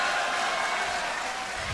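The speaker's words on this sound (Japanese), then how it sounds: "今万雷の拍手を受けて、 ねぎらいを受けて控え室へと引き返していきます岩佐良介です" Thunderous arena applause rings out for a defeated boxer leaving the ring after a title match, a dense, steady roar of clapping from a large crowd, loud and continuous for the whole stretch.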